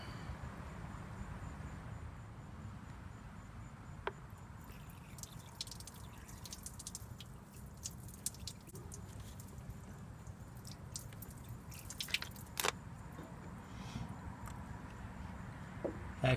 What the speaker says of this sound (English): Let's go ahead and put some water on it, rinse it off